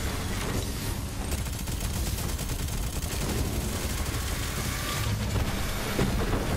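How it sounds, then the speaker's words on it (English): Dense, continuous gunfire from the video game Borderlands 3, a loud unbroken barrage of rapid shots layered with explosions, filling the scene without pause and with no voices heard. "taking heavy fire."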